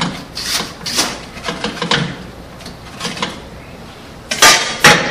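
A scraper rubs and scrapes around the sides and bottom of a metal mixer bowl of creamed cake batter, a series of irregular rasping strokes, close and fairly loud, ending with two sharper scrapes.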